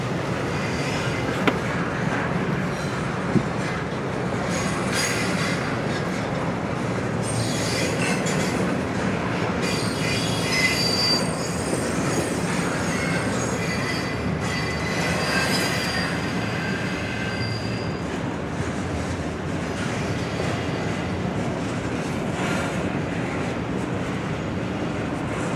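A CSX freight train with AC4400 and Tier 4 locomotives rolls past on the Portsmouth Sub, its wheels squealing high over a steady rumble and clatter of railcars. The sound holds loud and continuous throughout and carries no speech.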